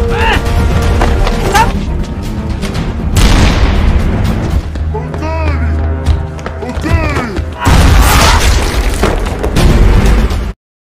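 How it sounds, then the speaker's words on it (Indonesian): Shotgun blasts aimed at zombies in a horror film action scene, loud repeated booming shots and crashing impacts layered with chaotic score and effects, dense and continuous throughout. "Hideo dengan shotgunnya mulai menembaki para zombie"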